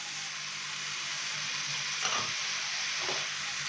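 Rice frying in a pan for fried rice with soy sauce and vinegar, a steady loud sizzle and hiss throughout with a couple of brief stirring scrapes.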